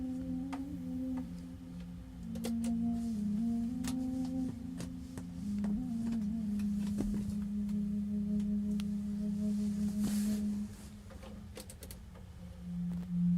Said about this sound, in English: 2 hertz binaural over 174 hertz solfeggio